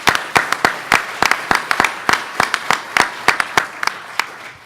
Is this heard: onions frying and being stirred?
no